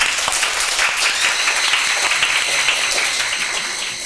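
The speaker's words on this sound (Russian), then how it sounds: "Аплодисменты залом!" A studio audience at a televised cooking contest bursts into applause, a dense, fairly loud stretch of clapping with a few sharper claps standing out, tapering off slightly toward the end.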